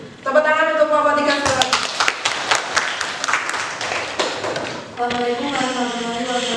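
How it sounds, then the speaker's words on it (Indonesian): A classroom group applauds a presenting student group, a short burst of clapping with some thumps set between stretches of a speaker's voice at the start and end. "Tepuk tangan untuk kelompok 3."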